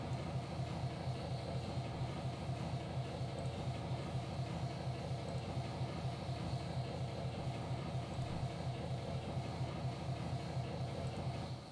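Locomotive in a railroad operations video game, a steady low diesel-like engine drone with faint rhythmic pulsing, continuous and fairly quiet with no voices.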